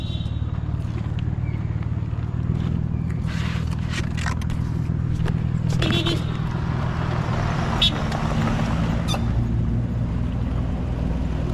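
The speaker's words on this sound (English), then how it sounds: "Got a bus passing by there, but the dust, you know." A bus passes on a dusty road in rural Guyana, a low steady engine rumble with scraping and rattling that stays loud and constant throughout, while some faint talk sits underneath.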